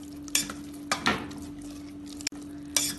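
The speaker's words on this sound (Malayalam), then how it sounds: "ഇതൊന്ന് ഇളക്കി മിക്സ് ചെയ്യാം." A spoon stirs cooked wheat and chicken in a pot while making Kannur alsa (harees), giving a few soft scrapes and clinks spaced over a quiet background with a low steady hum.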